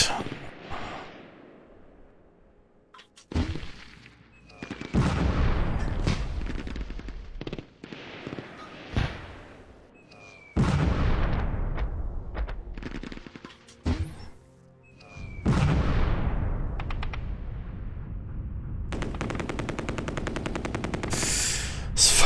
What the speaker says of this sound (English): I have absolutely nothing I can put against those machine guns.